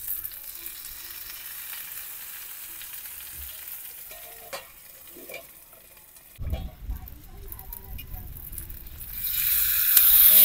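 Food frying in a covered pan gives a low, steady sizzle through the first half. It grows louder and fuller after the pan is uncovered and the food turned, with scattered crackles and a few light clinks.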